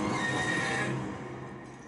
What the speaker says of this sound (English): Oh, he's with the horses!